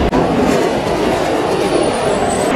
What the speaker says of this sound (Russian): Сейчас приедет мой поезд